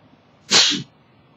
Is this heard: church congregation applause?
no